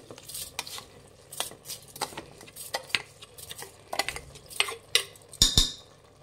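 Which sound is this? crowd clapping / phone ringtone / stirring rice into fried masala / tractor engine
stirring rice into fried masala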